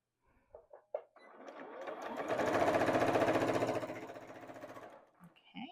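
A sewing machine stitching quilt fabric for a maple leaf table topper, a few soft clicks before a steady, rapid mechanical whir swells up, holds for a few seconds and winds down.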